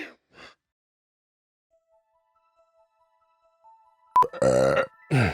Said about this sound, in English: Yep, burps.